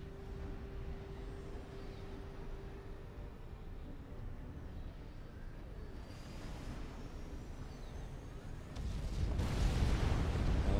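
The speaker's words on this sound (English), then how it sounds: "he's not going to be able to sustain that kind of arty fire" In Supreme Commander Forged Alliance, artillery keeps up a dense, roaring barrage of rumbling impacts and explosions, with a heavier blast swelling loudly near the end.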